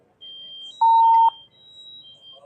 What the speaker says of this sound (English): Fire alarm sounding, fire in the basement.